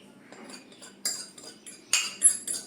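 A spoon stirring garlic, cumin, black pepper and Kashmiri red chilli powders in a bowl, light scraping and scattered sharp clinks of metal against the bowl, close and without talk.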